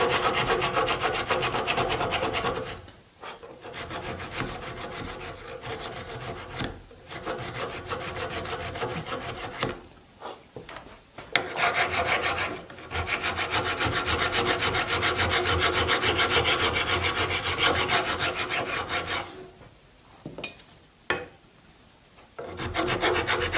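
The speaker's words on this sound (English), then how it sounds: "now try some rasping" A rasp is worked over a Sonowood guitar bridge, giving loud, close, rhythmic gritty strokes in long runs broken by a few short pauses, without speech.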